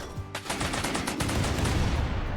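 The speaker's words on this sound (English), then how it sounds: "This guy is firing at us." Rapid bursts of automatic gunfire in a RimWorld combat battle, dense and continuous with overlapping shots, loud and close, with no talking.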